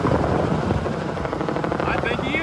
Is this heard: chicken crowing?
no